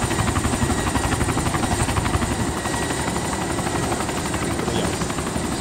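A helicopter in the video game DayZ drones loudly and steadily overhead, its rotor chopping in a fast, even pulse that holds at close range throughout, with no talking.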